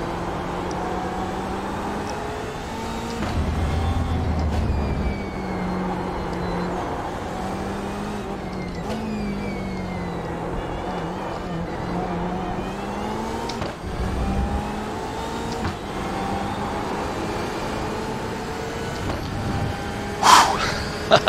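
A BMW M8 GTE race car engine in the iRacing simulator at Barcelona drones steadily, its pitch rising and falling through gear changes and corners, loud and continuous for the full stretch.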